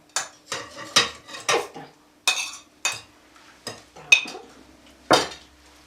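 A spoon whisks butter in a bowl for small cupcakes, making about a dozen sharp, close clinks in an uneven beating rhythm with short gaps between strokes.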